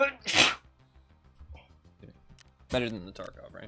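A single sharp sneeze bursts out near the mic at the start, loud and brief, during a casual gaming stream, with speech continuing afterward.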